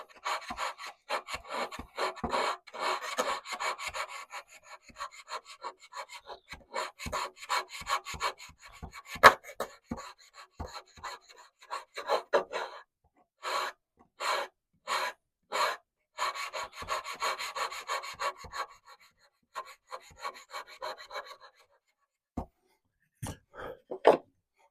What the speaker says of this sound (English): need to come back, sand more on the back side